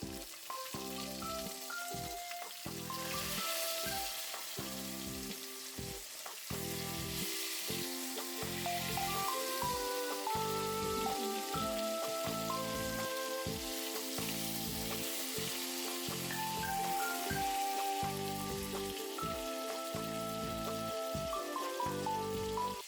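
Salmon fillet pan-searing in a frying pan over medium heat, a steady, dense sizzle and crackle that runs on continuously at close range, with no talking.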